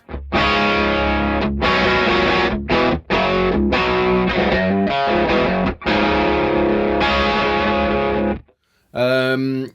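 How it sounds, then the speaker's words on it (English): An electric guitar played straight into a Kraken amp on a crunch setting, loud, thick distorted chords strummed in bursts with short gaps, ending on a brief cleaner ringing chord. "This is the guitar straight into the amp."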